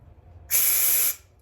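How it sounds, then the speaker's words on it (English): Carb cleaner sprays in one steady, close hiss of about half a second through a Honda CBR600F2 motorcycle carburetor, then cuts off sharply. "And you can just see the carb cleaner come spraying out."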